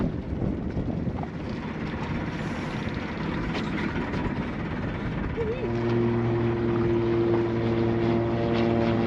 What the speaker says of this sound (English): There's a biplane.